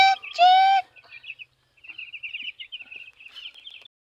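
Farm chickens call out close by: a loud squawk at the start, then a run of softer, choppy chirps and clucks that trail off into quiet.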